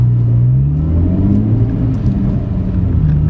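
Turbocharged or supercharged car engine pulling hard at full throttle, a loud, steady low rumble with rising harmonic tones that climb through the gear, close and continuous with no talk.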